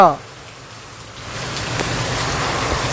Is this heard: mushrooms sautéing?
no